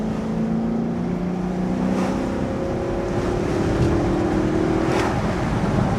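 A Range Rover's V8 engine drones steadily and loudly in sport mode, its pitch climbing gradually as it revs up, with rumbling road noise underneath.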